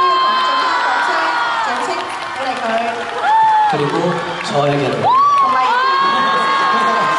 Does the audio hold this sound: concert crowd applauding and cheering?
yes